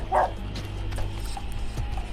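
A dog barks nearby, one sharp bark early and fainter yips and mechanical clicks following over a steady low background hum, with no one speaking.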